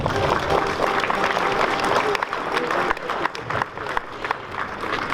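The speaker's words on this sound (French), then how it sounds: "Vous pouvez les applaudir." A crowd applauds at the inauguration of an art exhibition and mural, dense continuous clapping that stays loud and fairly close, with voices mixing in beneath it.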